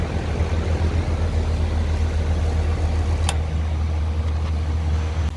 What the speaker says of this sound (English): my fan motor turned on.